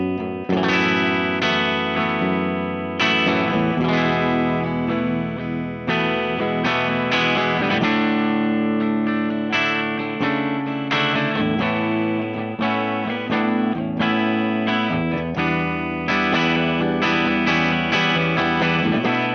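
An electric guitar played through the bridge low-output Mr Glyns Integrity humbucker with heavy distortion, strummed hard with chunky repeated chords and sustained riffs, loud and continuous with no talking.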